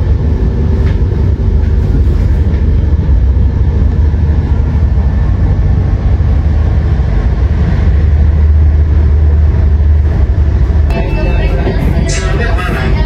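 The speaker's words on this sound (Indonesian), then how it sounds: "Tepat pada waktunya pukul 21:10 Madiun Jaya diberangkatkan dari jalur 1 Pasar Senen." The Madiun Jaya passenger train departs Pasar Senen station in Jakarta at night, heard as a loud, steady low rumble and rolling hum from inside the moving train.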